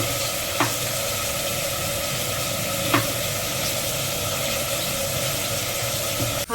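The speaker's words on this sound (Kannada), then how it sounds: "ಈರುಳ್ಳಿ ಬೇಯ್ತಾ ಇದೆ, ಫ್ರೈ ಆಗ್ತಾ ಇದೆ ಈರುಳ್ಳಿ" Onions frying in a pan, a steady close hiss of sizzling with a couple of faint clicks from stirring, with no voices.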